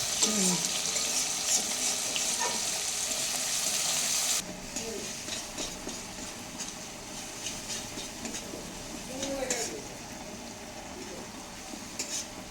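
Prawns frying in a pan after potatoes, a close sustained sizzle with stirring scrapes that drops in loudness partway through and continues more softly with intermittent crackles, with faint speech now and then.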